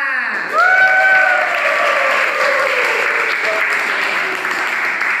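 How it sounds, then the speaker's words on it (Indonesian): Applause in a school classroom, a burst of many hands clapping that rises quickly and continues steadily for several seconds, loud and close, with children's voices calling out over it at first. "Tepuk tangan buat kita semua."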